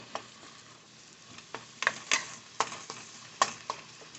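Hamburger and onions sizzle steadily in a pan while a utensil stirs and scrapes them in quick irregular strokes, close and moderately quiet with no talking.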